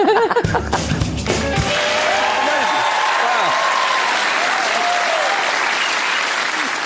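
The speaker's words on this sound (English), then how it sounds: "round of applause" TV studio audience breaks into loud, sustained applause after a brief burst of music or noise at the start, with full, even clapping from a large crowd filling the rest.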